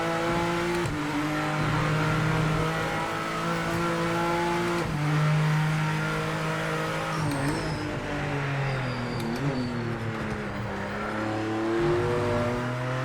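A BMW GT3 race car from the Project Motor Racing game drives hard, its engine revving and shifting through gears with rising and falling pitch, loud and continuous throughout with no talk.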